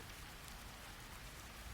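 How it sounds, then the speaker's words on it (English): Steady rain falls on a London street, a soft continuous hiss that holds at an even, fairly quiet level from start to finish, with no voices. "the sound of rain fading into background comfort"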